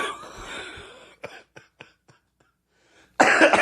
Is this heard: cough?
yes